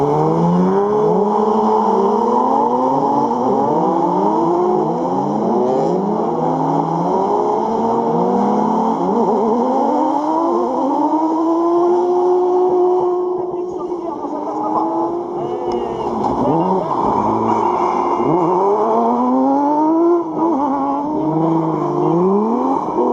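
Race cars on the ice circuit of the Trophée Andros, several engines revving and changing pitch continuously, loud and sustained, with a commentator talking over them throughout.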